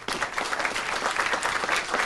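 An audience breaks into dense, steady applause, loud and close, with many hands clapping at once and no pauses.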